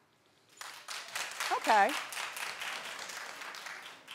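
A talk show studio audience claps in a loose, steady patter, with a voice briefly speaking over the clapping partway through.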